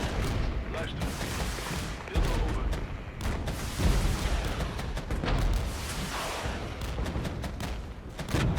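Dense, continuous cannon and gunfire as Leopard tanks engage T-72s at close range in the war game Regiments, steady crackling blasts with heavier booms throughout, and a voice talking over the fighting.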